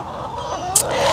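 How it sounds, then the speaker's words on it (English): Backyard chickens around a person, a short soft clucking with a brief higher squawk near the end, close by and with no talk. "All my chickens are around me."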